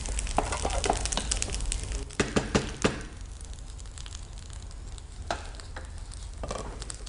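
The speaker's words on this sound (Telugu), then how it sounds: "ఒకసారి లోపల మనం కింద అంటుకోకుండా మిక్స్ చేసుకుంటూ ఉంటే సరిపోతుంది" Rice for chakkara pongali stirred in a pot, a close bubbling simmer with several sharp spoon scrapes and knocks against the pot, no talk.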